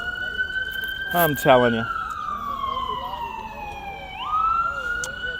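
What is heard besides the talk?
loud emergency vehicle siren on a New York street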